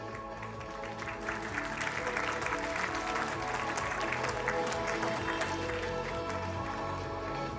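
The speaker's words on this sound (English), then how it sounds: "Please have a big round of applause for the eminent personalities we have on stage today." A large crowd at a scientific conference inauguration claps steadily and evenly, a sustained wash of applause heard from some distance, fairly soft and without talk.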